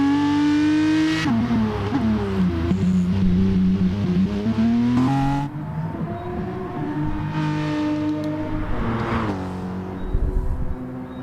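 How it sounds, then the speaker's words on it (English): An AMG Mercedes-Benz race car engine in a sim racing game drones continuously, its pitch rising and falling through shifts and revs, loud and alone with no talk. "Trinilayo here, as he's sporting a wonderful AMG Mercedes-Benz."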